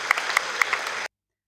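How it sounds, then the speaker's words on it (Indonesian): Brief burst of audience applause for school students at an event, a short crisp clapping that cuts off abruptly after about a second. "Tepuk tangan untuk adik-adik sekalian."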